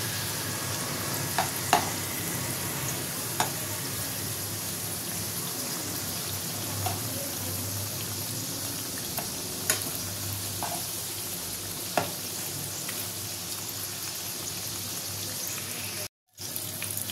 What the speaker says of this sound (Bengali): বাকিগুলো আমি ভেজে নেব। এগুলো লাল লাল করে ভেজে রাখবো, তুলবো।